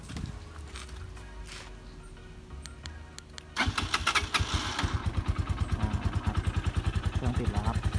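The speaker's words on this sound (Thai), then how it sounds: "ต่อไปครับเป็นการสตาร์ทด้วยรีโมทครับกุญแจไม่ต้องใช้นะครับ" Car fitted with a DEMON 150GR alarm is started by remote without a key: a quiet lull gives way to the starter cranking, then the engine catches into a steady, pulsing idle close by.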